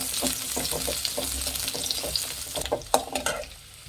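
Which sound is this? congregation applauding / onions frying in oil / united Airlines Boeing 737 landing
onions frying in oil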